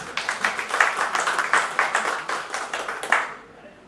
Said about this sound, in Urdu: زوردار تالی بجا دیجیے۔